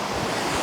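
A fast-flowing river makes a broad, steady rush of water, loud and close, heavily mixed with wind buffeting the microphone over the brief stretch.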